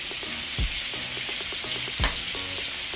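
A fork stirring and digging through cooked Jamaican rice and peas, with a soft, steady scraping texture and two brief, duller knocks.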